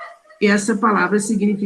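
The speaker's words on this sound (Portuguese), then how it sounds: "olha os cachorros gritando aqui" Several dogs bark and yelp in a loose, overlapping run close by, heard under someone speaking Portuguese during an adult catechism class.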